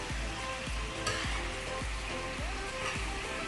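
Boneless tawa chicken pieces frying in paste on a hot griddle over full flame, a steady crackling sizzle with a regular rhythm of stirring scrapes, close and fairly quiet, no talk.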